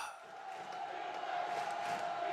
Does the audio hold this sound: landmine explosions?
no